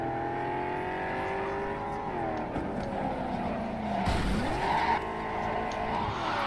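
Car in the video game Cyberpunk driving with a sustained engine drone that dips and rises, then a brief tire skid and squeal midway, close and steady throughout.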